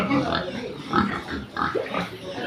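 Piglets around two to three months old on Pigrolac feed grunt and squeal in a pen, with repeated short calls overlapping at close range and a fairly steady level.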